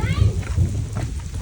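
Hail and rain fall heavily on a mountain at Resunga in Gulmi, Nepal, a dense rumbling patter that continues without pause throughout.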